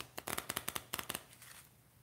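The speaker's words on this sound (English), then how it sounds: "I feel like doing a riffle shuffle like this is almost cheating" A deck of playing cards is riffle shuffled by hand, giving a fast close burst of crisp flicking clicks that slows and fades into a soft settling rustle, with no speech.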